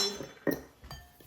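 A spoon clinks once against a glass bowl while adding a spoonful of quinoa flakes, a single bright close tap with faint shuffling around it.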